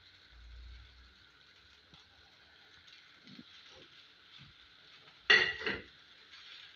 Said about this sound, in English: I'm mixing it so that it can spread all over.